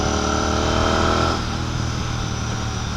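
A Royal Enfield Continental GT 650 BS6 motorcycle with a Red Rooster aftermarket exhaust runs in a continuous loud drone, its note dropping from a steady higher revving tone into a lower, rougher rumble partway through, with no talking.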